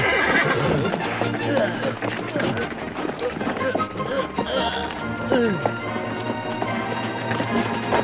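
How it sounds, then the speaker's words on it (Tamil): Horses neigh and whinny in the animated film Gulliver's Travels, with a loud, dense mix of whinnies and hoof clatter and voices shouting under them throughout. "குதிரைகளை எல்லாம் இழுக்க ஆரம்பிச்சிடணும்"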